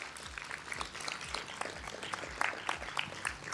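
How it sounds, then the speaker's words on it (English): Audience applause for presenters at an academic conference session, steady dense clapping from a room full of people, moderately quiet and continuous. "Let's just give one last round of applause for our presenters"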